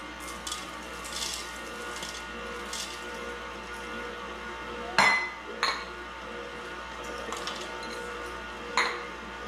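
Toffee pieces and chocolate chips drop into a glass bowl, giving a few bright clinks against the glass spread over several seconds amid low kitchen background noise.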